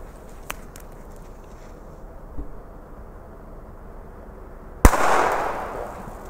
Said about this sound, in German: Okay, sehr laut. Ein Raketentreiber.